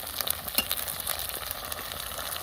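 Carrots and beans frying in a pan for fried rice, giving a steady, close crackling sizzle with small spitting pops throughout and no voices.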